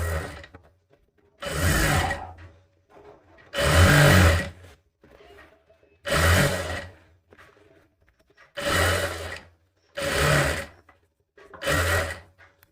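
Sewing machine stitching a katori blouse, running in six or seven loud bursts of a second or so each, separated by short quiet pauses.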